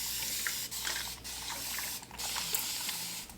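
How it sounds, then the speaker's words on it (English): A small spray bottle of water misting curly hair: a run of quick, hissing pumped sprays with brief pauses between them, close and fairly loud. "So I just sprayed my hair with a little spray bottle of water"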